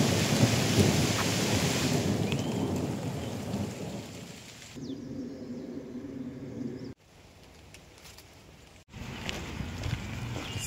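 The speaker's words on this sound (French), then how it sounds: "j'ai entendu le tonnerre gronder" Thunder rumbles over a heavy rain shower on a hiking trail, a dense close patter of drops with low rolling thunder, briefly dropping quieter before the downpour swells back.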